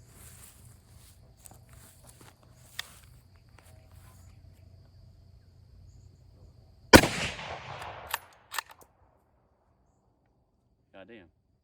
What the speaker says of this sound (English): I'm gonna go ahead and shoot this thing.